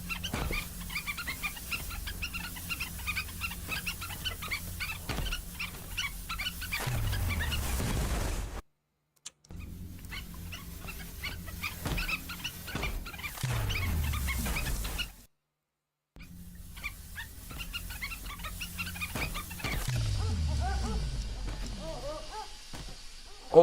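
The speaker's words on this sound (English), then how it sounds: "Yes, literal lava puppies. It is just sample dog sounds, yeah." Lava puppies in a video game make sample dog sounds, with barks and whimpers mixed into dense, busy game audio that runs steadily, broken by two short silent gaps.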